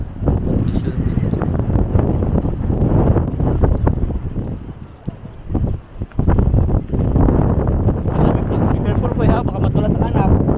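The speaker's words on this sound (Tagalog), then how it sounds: "lakas yung hangin." Strong wind buffeting the microphone on a coastal clifftop at Boscastle, Cornwall, a continuous loud rumbling roar with gusts, under people talking.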